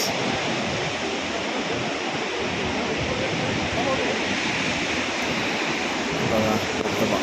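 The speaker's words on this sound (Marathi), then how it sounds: "बघा धबधबा." Thoseghar waterfall, a loud, dense, unbroken roar of falling water heard close up, with faint voices beneath it.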